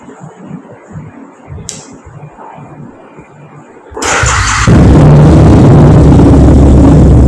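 A 1250cc drag racing motorcycle engine fires up after a few quiet seconds, then roars at high revs. The sound is loud, close and sustained, and it grows heavier as the throttle opens.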